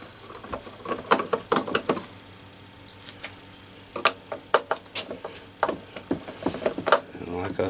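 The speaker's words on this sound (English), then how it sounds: "we'll go ahead and start removing the screws." Screws being removed from a Sony CRT television during repair, with a run of small ticking and scraping clicks of a screwdriver turning, close and fairly quiet, under occasional talk.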